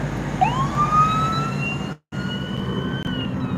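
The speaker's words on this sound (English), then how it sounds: "All I heard was the sirens." Emergency vehicle siren wailing outside, a rising then sustained electronic tone passing amid road noise, briefly interrupted by a dropout before the wail continues.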